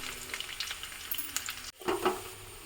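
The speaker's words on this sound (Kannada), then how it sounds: "ಸೊ ಬೆಳ್ಳುಳ್ಳಿ ಒಂಚೂರು ಫ್ರೈ ಆವಡು" Garlic sizzles in oil for pepper chicken, a close crackling fry with stirring clicks and a brief dip before the sizzle returns, with no voices.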